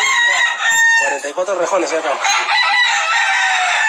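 A gamecock crows loudly and close, a long drawn-out call that carries through most of the moment, while someone speaks briefly in Spanish underneath.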